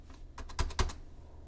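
Quick run of computer keyboard key presses, about eight clicks in a short burst with two louder strokes in the middle, close and clear, as a file name is typed in Publisher.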